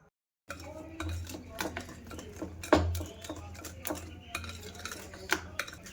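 Cake batter with cocoa powder and powdered sugar being mixed in a bowl, with repeated clinks and scrapes of a utensil against the dish, fairly close, some strokes sharper than others.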